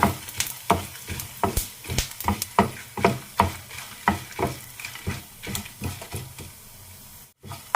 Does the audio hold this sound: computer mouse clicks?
no